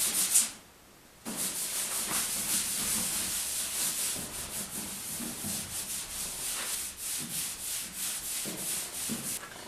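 Bondo body filler spread with a small spatula over a large weld joint in auto body repair, giving steady close scraping and rubbing strokes that run continuously after a brief pause, with no talk.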